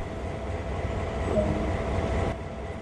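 A GP38-2 diesel locomotive's power unit idling in Train Sim World, a steady low engine rumble with a constant hum that holds evenly throughout, with no talk.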